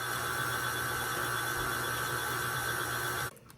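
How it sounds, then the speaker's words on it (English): An electric stand mixer whirs steadily while working pie crust dough of flour and water, a loud continuous motor drone with a fixed hum that stops abruptly near the end, leaving quiet. "Now I'm gonna get it mixed up really well in my mixer."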